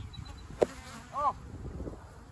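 Honeybees in an opened hive during a spring inspection give a soft, sparse buzz, with a brief close wing whine passing by and a faint hum under quiet handling noise.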